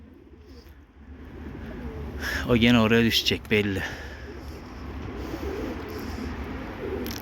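Tumbler pigeon cooing outdoors, a short voiced burst of harmonic coos in the middle of the stretch, with someone talking over and around it and steady background noise throughout.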